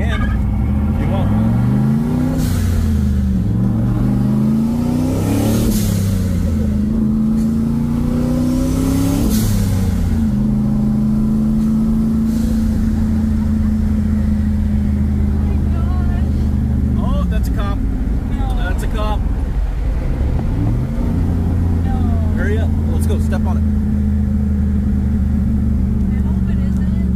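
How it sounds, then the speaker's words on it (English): A turbocharged LS-swapped 1969 Camaro with a six-speed manual pulls hard through first and second gear, the loud engine note rising, dropping at the shift and climbing again, with people talking over it. "This time she's gonna give it a little bit of throttle in first gear, second gear."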